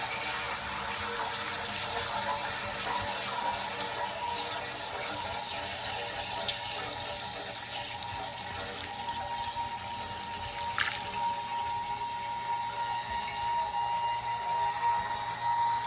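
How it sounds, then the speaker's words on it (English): Ethanol being poured into a container of water gives a steady, faint liquid trickle and splash throughout, continuous and close with no talk. "I'm going to add more ethanol."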